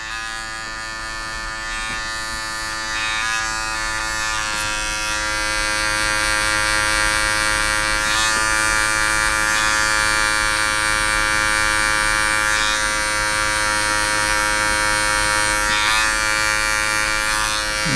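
Electric hair clippers with the blade fully closed buzz steadily and close-up while cutting hair during a skin fade, a constant motor hum with slight changes in pitch and load as strokes pass through the hair.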